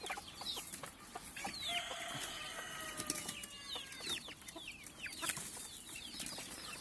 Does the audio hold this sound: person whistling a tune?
no